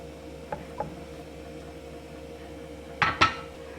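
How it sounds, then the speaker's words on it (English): Metal lid lifted off a pot of chicken mac and cheese: a couple of light taps, then a louder clattering clink of the lid near the end, over quiet background hum. "So into the pot it goes. Take the lid off."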